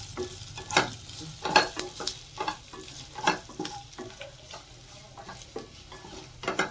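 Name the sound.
chopped garlic and green chilli frying in oil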